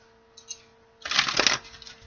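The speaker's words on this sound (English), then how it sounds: "Two more shuffles, my guys" A single quick riffle of cards, a short papery flutter lasting about half a second after a faint tap.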